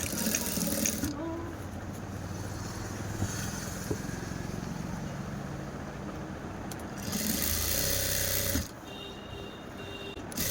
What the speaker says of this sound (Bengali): এখন সেলাই করে নিয়ে নিচ্ছি